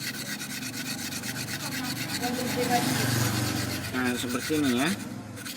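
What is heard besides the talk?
rubbing with a fine whetstone to sand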